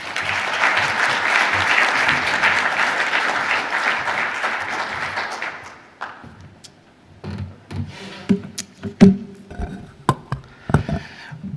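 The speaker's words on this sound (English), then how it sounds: "So everybody, a round of applause for Mr." Audience applause at a climate and energy conference panel, loud dense clapping for about six seconds that fades out, followed by scattered knocks and rustling from the room.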